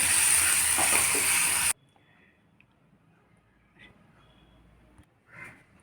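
Tamarind pulp is tipped into a hot tempering with curry leaves for a raw tamarind chutney, giving a loud, steady sizzle for under two seconds that cuts off abruptly, leaving a quiet room with a few faint clinks.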